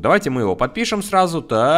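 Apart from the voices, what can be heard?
None of the usual background noises is heard.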